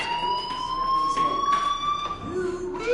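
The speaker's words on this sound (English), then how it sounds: "do you hear that fire alarm?" Fire alarm wailing in a building, a steady high electronic tone with slowly rising pitch and harmonic overtones, continuous and fairly loud, with faint voices or noise under it.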